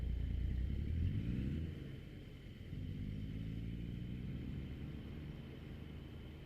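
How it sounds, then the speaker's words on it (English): Truck engine in Euro Truck Simulator 2 drones low and steady, dipping briefly as the revs drop and then settling back into a continuous rumble, no talking. "Your truck is the main sound"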